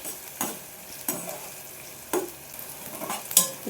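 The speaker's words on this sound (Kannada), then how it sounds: "ಚೆನ್ನಾಗಿ ಫ್ರೈ ಆಗಲಿ" Sprouts palya fries in a pan, a soft steady sizzle broken by several distinct scraping strokes of a spatula stirring the mixture, close and clear with no talking.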